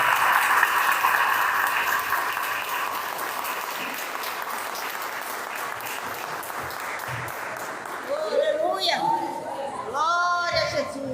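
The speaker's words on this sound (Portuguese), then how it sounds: "aplauda o Senhor." A church congregation applauds in worship, a dense, sustained wash of clapping from many hands at fairly close range, with voices rising over it toward the end as people call out.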